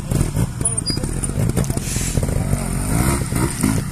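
A trial motorcycle engine revs at an outdoor trials event, its rough, fluctuating snarl rising and falling close by with clattering underneath.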